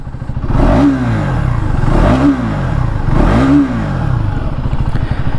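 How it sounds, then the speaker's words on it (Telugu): A KTM Adventure 390 X Plus with an underbelly exhaust idles and is revved three times, each rev rising and falling in pitch, loud and close with a rumbling exhaust note. "ఒకసారి ఎగ్జాస్ట్ సౌండ్ వినండి. అండర్ బెల్లీ ఎగ్జాస్ట్ అయితే ఇచ్చారు."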